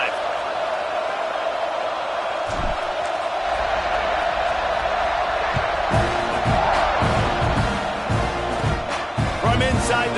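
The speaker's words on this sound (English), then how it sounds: "this crowd is feeling themselves after that last drive" Crowd noise from spectators at an American football game, a loud continuous roar swelling with cheers and whoops, with thumping stadium sounds and music building toward the end.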